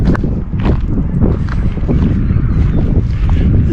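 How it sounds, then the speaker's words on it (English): Wind buffets a microphone on a riverside walk, making loud, low, rumbling gusts that thump and roar steadily for a few seconds, with faint crunching footsteps underneath. "we're facing the wind now, so it's gonna be hard to hear"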